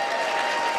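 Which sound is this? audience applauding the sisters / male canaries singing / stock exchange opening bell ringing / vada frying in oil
audience applauding the sisters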